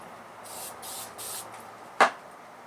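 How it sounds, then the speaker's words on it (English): Three short hissing bursts of an aerosol basting spray in quick succession, followed by a sharp tap, fairly quiet and close. "It's just a quick couple sprays on it, nothing too much."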